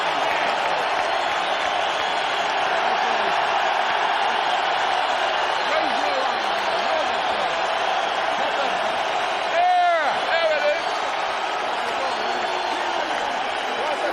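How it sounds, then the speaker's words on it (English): A boxing arena crowd at the 2003 Lewis v Klitschko fight roars steadily for Vitaly Klitschko, sustained cheering under a commentator talking throughout. "And listen to the crowd response for Vitaly."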